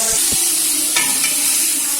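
Onions shallow fry in a pan for a pizza with a loud, dense, steady sizzle and a couple of faint utensil clicks, no voices.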